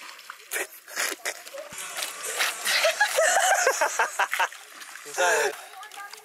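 A person diving into Yambo Lake, with splashing water among the outdoor sounds. People laugh and talk throughout, and the splashes are partly masked by their voices.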